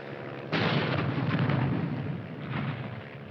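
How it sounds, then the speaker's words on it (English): Artillery fire in a 1951 World War II war film booms out as a loud, close blast that rumbles on for a couple of seconds, followed by a fainter second report. "Piper Cup's calling the shots for artillery."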